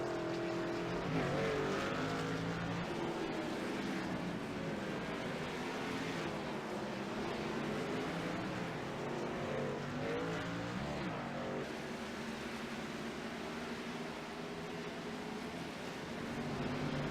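Race cars lapping Sonoma Raceway in a 90-lap event at Upper Edge Racing, a continuous dense engine roar with shifting tones as cars pass, steady and loud throughout.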